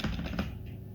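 Quick, light keystrokes on a computer keyboard, a short run of close, soft clicks typed in rapid succession.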